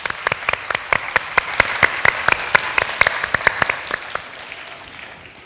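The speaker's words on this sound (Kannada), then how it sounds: "ಇದಕ್ಕಾಗಿ ಒಂದ್ಸತಿ ಜೋರಾಗಿ ಚಪ್ಪಾಳೆ ಬರಲಿ" Loud, close applause from an audience after a Rama Janardhana dance performance, dense claps running several seconds and thinning out toward the end.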